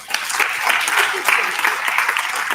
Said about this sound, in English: Okay, round of applause for Jess.